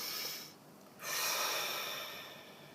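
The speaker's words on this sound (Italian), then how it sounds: "facciamo un bel respiro profondo" One deep breath, close and airy, drawn in slowly and then let out over a steady soft hiss. No voice is heard.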